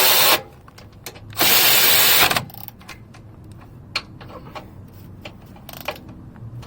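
Power tool tightening the rear brake caliper bolts on a 1997-2003 Ford F-150, two loud bursts of whirring drilling near at hand, then quieter scattered clicks and taps of handling parts.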